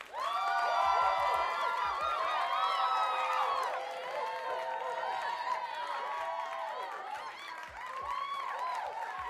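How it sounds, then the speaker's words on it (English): Canned crowd applause and cheering effect played on a Pittsburgh Steelers football fan show, a swelling roar with whoops and scattered claps, steady and moderately loud, easing slightly midway. "I'm going to throw another round of applause on that."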